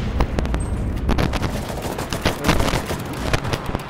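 Rapid automatic gunfire from a weapon in the video game Garry's Mod, sustained dense bursts of shots packed close together at steady loudness throughout.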